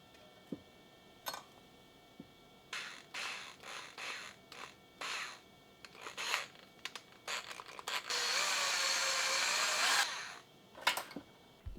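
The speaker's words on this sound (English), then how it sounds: "I'm going to show you how I do that with a vise and a drill" A power drill whirs in short bursts amid scraping and rubbing noises as it straightens copper wire held in a vise, then runs steadily for a couple of seconds before stopping.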